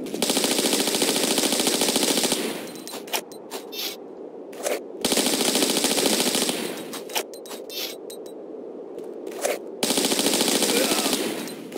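Gunfire aimed at ninjas in Tomb Raider IV, three long loud bursts of rapid automatic shots separated by pauses filled with clattering impacts and scrapes, with no speech.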